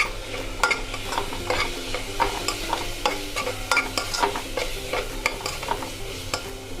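Chili powder is stirred into a sizzling mutton and drumstick curry, a rapid, steady run of spoon scrapes against the pot over continuous frying hiss, close and loud with no talking.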